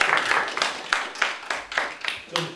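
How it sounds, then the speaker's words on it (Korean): A small gathering in a Korean talk-session room claps for Min Gyeong-jin; the sparse clapping comes in distinct bursts, with a voice in the background. "우리 민경진 선생님 박수 한번 주시죠"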